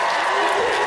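A Dragon Con panel audience breaks into dense applause mixed with crowd noise, a loud, sustained wash of many hands clapping at once.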